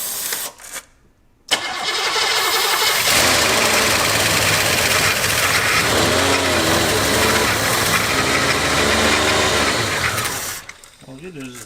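An abandoned Cadillac limousine engine cranks over, then catches and runs steadily for several seconds, a loud rough idle with a mechanical clatter, before cutting off into near silence.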